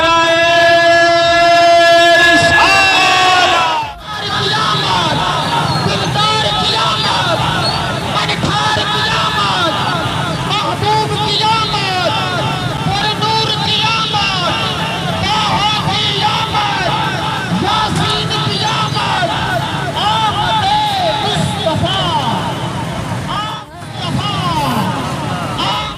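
Large crowd at a village rally procession, a loud continuous babble of voices and yelling mixed with vehicle engines and motorcycles, close and dense, with a brief dip in the middle and again near the end.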